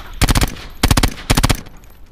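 Bursts of rapid automatic gunfire in a video game, three loud clusters of quick shots separated by short pauses, with no talking.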